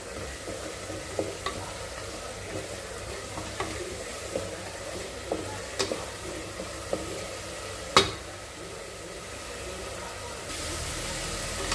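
Masala sautés in a pan, a steady low sizzle with occasional scraping stirs and light clinks of a spoon against the metal, one sharper knock near the end.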